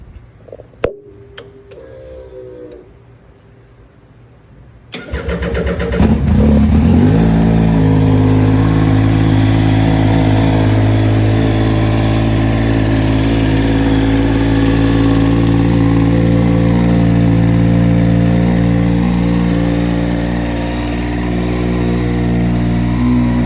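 Yamaha FZ09 motorcycle engine cranks over and fires up after a few quiet seconds of handling noise, then settles into a loud, steady, close idle with slight rev swells.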